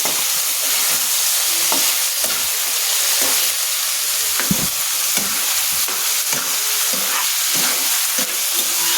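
Cubed meat frying and sautéing in a hot pan, a loud continuous sizzle with periodic scraping bursts from stirring, close and steady throughout with no talking.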